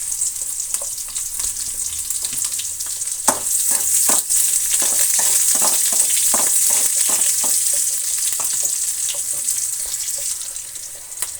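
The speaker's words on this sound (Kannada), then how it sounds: "ಈರುಳ್ಳಿ ಒಂದು ಸ್ವಲ್ಪ ಸೇರಿಸೋಣ. ಮತ್ತು ಕರಿಬೇವಿನ ಸೊಪ್ಪು ಒಂದು ಸ್ವಲ್ಪ ಸೇರಿಸೋಣ. ಇಷ್ಟನ್ನು ಫ್ರೈ ಆಗಲಿ." Onion and curry leaves hit hot oil for a sambar tempering, bursting into loud crackling sizzles with sharp pops and spits that settle into a steady close fry, with stirring clinks along the way.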